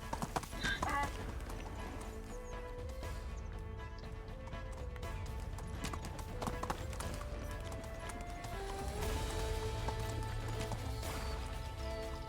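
Horse hooves clip-clop steadily while riding in the medieval game Medieval Dynasty, a continuous rhythmic trot beneath loud background music throughout.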